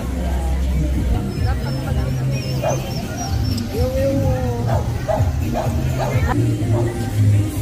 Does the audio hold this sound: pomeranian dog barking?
yes